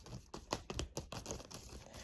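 Tarot cards shuffled close by, a dense run of papery riffles and crackling flicks in quick uneven bursts with no voices.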